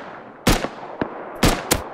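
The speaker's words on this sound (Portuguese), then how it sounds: "Tem alguém atirando em mim" Gunfire in the survival game Rust, four sharp shots in an uneven sequence with two louder cracks, one thinner snap and a final shot, close and loud over quiet background.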